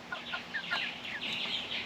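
An eight-week-old American Buff cockerel gives soft, faint clucks and chirpy calls in a short, continuous stretch, heard close amid low background noise with no talking.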